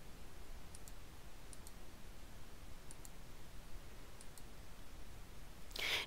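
Computer mouse clicking through mail merge recipients in Word 2010: a few soft, paired clicks spaced about a second apart over a quiet background hiss, with a brief louder rustle at the end.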